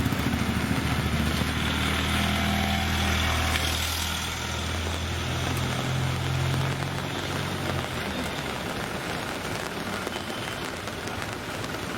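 Steady rain falls on a street in the Champasari area of Siliguri, with a constant hiss and patter while motorcycle and vehicle engines rumble past underneath.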